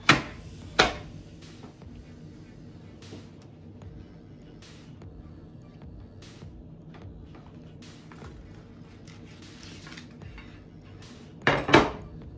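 Cassava cake flipped out onto a metal sheet pan: a couple of sharp pan clanks at the start, faint scattered taps through a quiet stretch, then another loud metallic clatter near the end, close by and without talking.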